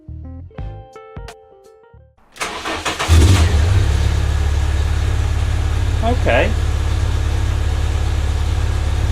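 A car fitted with a new exhaust, with an invisible catalytic converter, centre section and back box, fires up after some clattering, then settles into a loud, steady idle with a brief rev, while someone talks over the start.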